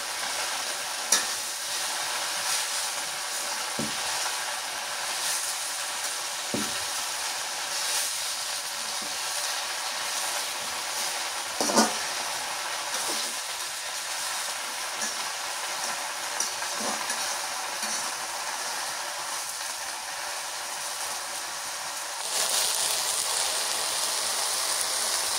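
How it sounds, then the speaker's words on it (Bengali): Red amaranth greens fry in a pan with a steady, moderate hiss and sizzle, punctuated by occasional utensil clicks while stirring, growing a little louder near the end. "শাক ভাজা হয়ে গেছে, নামে নিলাম"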